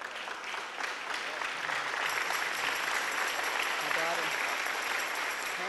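An audience claps at a talk by Nancy Pelosi at Glide, a soft, sustained patter of many hands heard at a distance, with faint voices mixed in.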